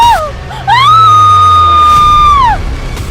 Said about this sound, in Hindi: जब उस तेज धार शीशे से नेहा का गला कटा तो एक दबी सी चीख उसके मुंह से निकली